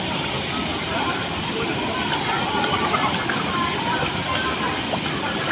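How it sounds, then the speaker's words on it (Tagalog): Steady roar of water at Bunga Falls, a waterfall in Nagcarlan, Laguna, as a dense, continuous broadband rush that stays loud and unchanging throughout, with faint voices of people nearby mixed in. "Ano yung tunog ng tubig?"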